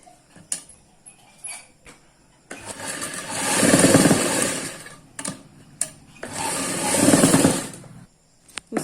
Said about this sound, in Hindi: फिर हम इसके चारों तरफ इस तरह से सिलाई लगाएंगे